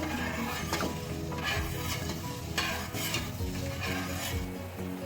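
Semolina halwa being stirred in a pan with sugar syrup, a steady scraping and bubbling sizzle that continues throughout with regular stirring strokes, close and fairly loud, with no voices.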